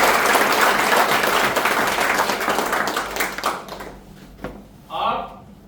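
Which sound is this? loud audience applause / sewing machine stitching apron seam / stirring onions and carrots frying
loud audience applause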